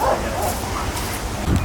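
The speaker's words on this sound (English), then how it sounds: "a mean dog" A mean dog in the Užupis district of Vilnius, Lithuania, gives a few short barks and yips in an outdoor street setting. The barks come over faint ambient noise.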